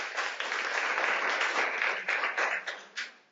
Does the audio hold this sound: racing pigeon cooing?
no